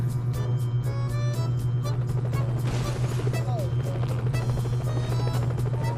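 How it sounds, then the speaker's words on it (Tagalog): A police helicopter in the driving game MadOut2 gives a steady thumping rotor beat over a constant low engine drone. It keeps on throughout while a player talks under it. "Bakit may helicopter?"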